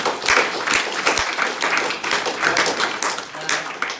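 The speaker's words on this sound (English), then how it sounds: "Can we give him a round of applause for that?" Scattered audience claps at a team-building training session, a steady patter of hands lasting a few seconds, moderately loud with some voices mixed in.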